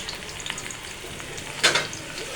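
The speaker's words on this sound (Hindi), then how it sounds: "हमारा जो ऑयल है वो गर्म हो चुका था तो हमने इसमें डाल दिया भिंडी" Okra tossed into hot oil for a dhaba-style bhindi masala, giving a steady soft sizzle with a brief louder burst of crackling midway, no voices.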